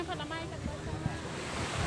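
Sea waves at Jomtien Beach in Pattaya, Chonburi, wash in with a continuous surf roar and wind buffeting the microphone, close by, with small splashes rising above the steady rush.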